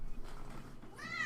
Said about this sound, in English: I don't know if you guys just heard my cat right there, but my cat just went absolutely nuts.